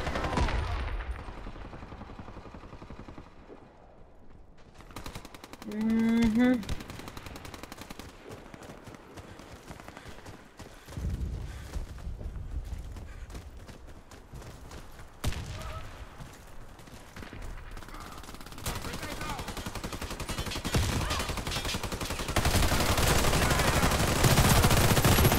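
Gunfire in a video game: sporadic shots and short bursts throughout, growing denser and louder toward the end, mixed with other game sounds.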